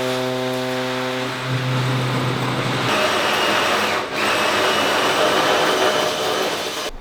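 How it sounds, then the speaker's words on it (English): A water pump runs continuously in a home brewing system, giving a loud, steady whirring drone with a tonal whine that shifts pitch partway through, close by and with no talk over it. "I'm just going to turn the pump off."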